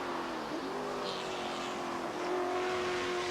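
Racing engines of a Holden Commodore and a Volvo touring car in a 1986 European race scream past, their pitch sweeping and holding high as the cars accelerate through, loud and continuous against the crowd and track noise.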